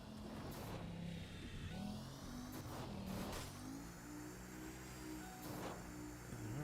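Car engine in a video game, its mid-pitched hum rising and falling as the car drives and revs, steady and moderately loud with no talk over it.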